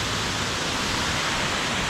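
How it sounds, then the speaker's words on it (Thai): A waterfall roars as a steady, dense wash of broadband noise, constant and fairly loud throughout with no pauses or voices. "นี่คือน้ำตก"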